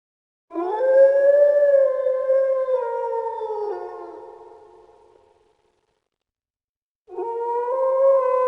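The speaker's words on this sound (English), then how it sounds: "in the game's sound effects, you can find a file named Wolf Howl" A long, mournful wolf howl from the Bully video game's ambient sound effects rises and slowly fades alone, followed after a brief silence by a second howl starting near the end.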